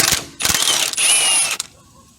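A ratchet wrench clicks rapidly in short bursts while loosening a bolt on a Honda Accord 3.5 power steering pump, close and crisp, with a brief metallic squeak.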